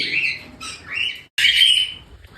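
A small pet bird squawks loudly up close in harsh, shrill bursts while being hand-fed, with a brief gap between calls.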